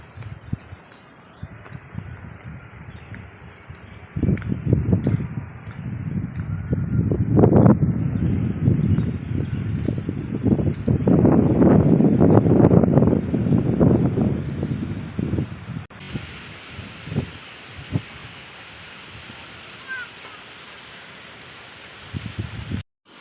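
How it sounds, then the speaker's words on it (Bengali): Strong gusty wind ahead of a storm with light rain beginning, rising into loud buffeting rushes and rustling for several seconds before easing to a quieter, steadier breeze, with no voices. "খুব দেখো হাওয়া উঠছে, আজকে শুধু হাওয়া আর হাওয়া দেখবে তোমরা"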